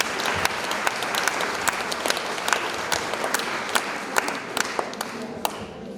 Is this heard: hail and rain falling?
no